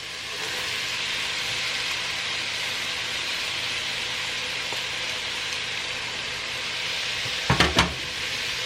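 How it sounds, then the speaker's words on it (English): Brown lentils, oil and carrots in a pot give off a steady broad sizzle throughout, with a couple of short clinks of a utensil against the pot near the end. "So now you just want to mix everything together. Make sure your lentil picks up all the oil and and mix in real well with your carrots"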